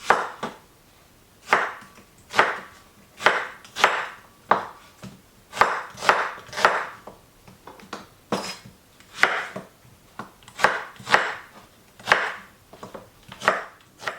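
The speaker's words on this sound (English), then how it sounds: "I'm gonna chop my vegetable. So cut the potato" A knife chopping potatoes and onions on a board: about twenty separate, crisp strikes, close and fairly loud, coming in an uneven rhythm with brief pauses, and no voices.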